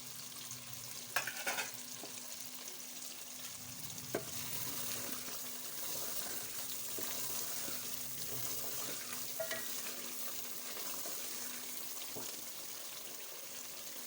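Ground masala for chicken qorma fries gently in a pan, giving a faint, continuous low sizzle. Occasional soft stirring clicks sound over the hiss, with no voices.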